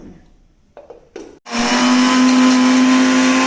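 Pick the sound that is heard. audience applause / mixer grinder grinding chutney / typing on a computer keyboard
mixer grinder grinding chutney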